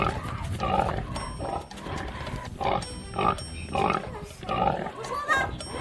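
Pig-like grunting squeals coming from inside a home, in rhythmic bursts that swell and fade repeatedly, with people talking over and between them.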